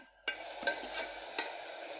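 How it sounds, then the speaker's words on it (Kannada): One carrot and a small potato hitting hot oil for a veg biryani: silence, then a sudden close sizzle that stays steady, with a couple of brief stirring scrapes, no voices. "1 ಕ್ಯಾರೆಟ್, 1 ಸಣ್ಣ ಬಟಾಟೆ. ಇದನ್ನು ಸ್ವಲ್ಪ ಹುರಿಯುವ. 2 ಸೆಕೆಂಡು ಹುರಿಯುವ."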